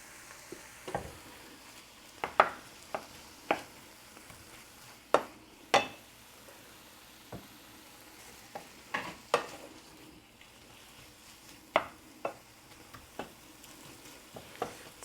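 Chopped deli ham cooks quietly in a pan while a spoon stirs the sauce, with soft sizzling under a string of intermittent scrapes and taps against the pan, faint and close, with no talk.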